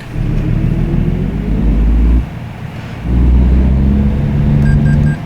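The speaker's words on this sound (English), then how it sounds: "Start up the truck." A truck engine in American Truck Simulator cranks and starts, then settles into a loud, steady running rumble after a brief lull, with faint chimes toward the end.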